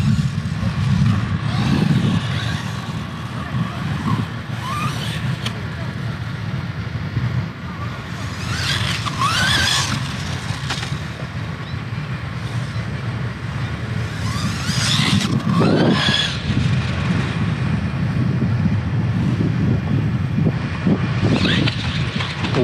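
An MJX Hyper Go 14210 RC car races at throttle with a steady high electric motor whine and rising revs in bursts, nearby and loud throughout, with occasional voices.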